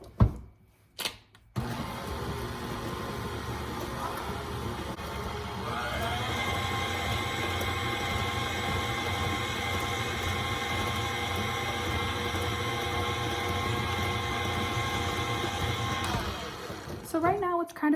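Cake batter for a coffee cake churns steadily in an electric mixer, a continuous whirring motor hum that shifts pitch slightly partway through, with a few brief knocks at the start and end.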